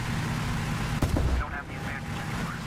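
Tank gunfire in War Thunder, around a Lago I medium tank and an M5 light tank: one sharp, loud cannon shot midway with a brief rumbling tail, over steady engine and battle noise.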